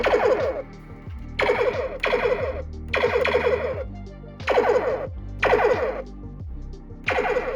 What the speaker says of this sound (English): Firing the photon torpedoes.